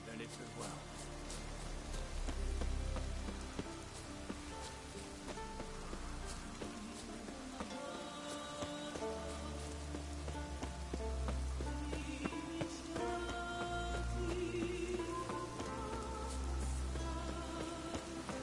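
Rain falling in The Witcher 3: Wild Hunt, a steady hiss of drops on surfaces running under game sounds and intermittent speech.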